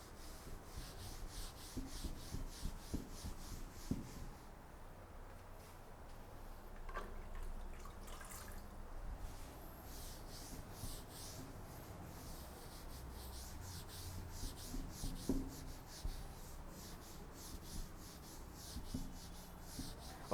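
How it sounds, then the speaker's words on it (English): A duster or cloth rubs steadily across a classroom board to erase writing, a soft continuous scrubbing that runs for about twenty seconds with rhythmic strokes and no one talking. "I'll just rub this space off."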